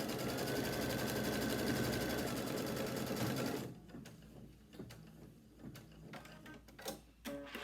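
An embroidery sewing machine stitches a folded fabric quilt piece with a fast, steady mechanical whir for several seconds, then slows into scattered ticks, clicks and short bursts of stitching, close and moderately loud.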